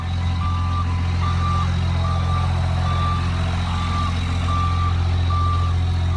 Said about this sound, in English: the backup horn is very loud